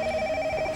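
A telephone ringing, a loud steady electronic trill with a clear sustained tone, close and alone without speech.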